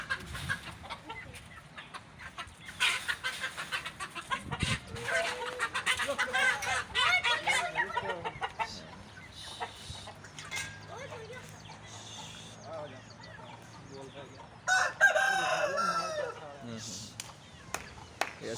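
Aseel rooster and hens on a poultry farm in cool rainy weather, bursts of clucking and a crow-like call rising and falling amid background farm noise, heard at moderate distance with a voice speaking intermittently over them.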